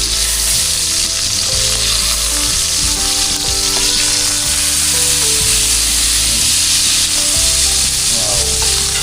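Milkfish (bangus) frying in a pan makes a loud, continuous close-up sizzle with crackling spatters and stirring scrapes, with no voices.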